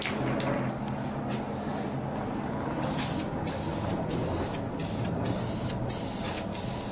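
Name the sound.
spraying light coats of primer paint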